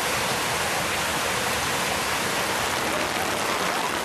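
Heavy rain pours steadily across city streets during a downpour that caused flooding, a dense, loud, unbroken hiss with no voices.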